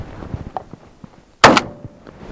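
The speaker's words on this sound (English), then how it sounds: "I'm just shooting in the dirt, of course." A Remington 11-87 12 gauge shotgun fires a single round into dirt. One sharp, loud blast breaks the quiet, then rings out briefly.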